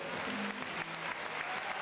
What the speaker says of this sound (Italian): Prima del verdetto vorrei un grande applauso ai due fighters